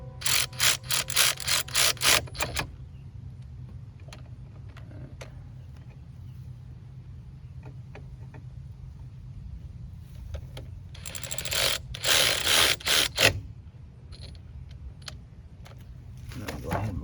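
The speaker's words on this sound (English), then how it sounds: "Ratchet in there." Ratchet working on a wheel of a 2002 Pontiac Grand Am, bursts of rapid clicking at the start and again later, separated by quieter stretches of garage background.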